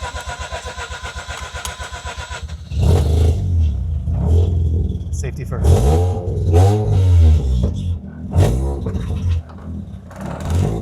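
A Mazda RX-8 track car's rotary engine cranks and catches, then revs up and down loudly nearby; a voice speaks briefly over the running motor.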